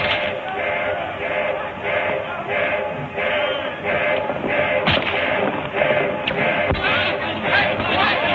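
Gunshots ring out in an early 1930s western set in the Painted Desert: a couple of sharp, moderately distant cracks about two seconds apart, rising out of a dense, steady din of crowd commotion and rumble.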